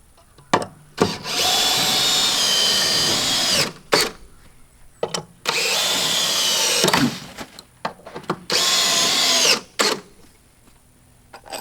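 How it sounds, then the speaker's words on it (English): A power drill drives long screws into a trailer's rim joist in three sustained whirring runs, each a couple of seconds long, separated by short knocks and pauses, loud and close. "And now I can go ahead and get it all screwed in."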